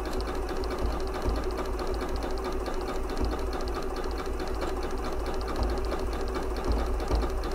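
A Janome 9480 sewing machine runs steadily while quilting, giving a continuous close, loud whirring drone of stitching with no pauses and no talk.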